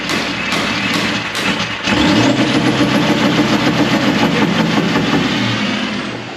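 A Landcruiser 200 Series engine, running a tune on its factory ECU, revs up hard in launch mode. It holds a loud, steady, raised drone with a rough lope in it, coming in after a short lull and staying close to the listener.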